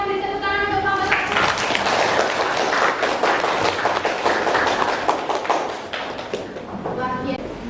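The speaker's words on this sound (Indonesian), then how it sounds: "beri tepuk tangan untuk kelompok 1" Students in a mathematics classroom clap for group 1, a brisk burst of hand claps that swells and then thins out near the end, while some voices carry on underneath.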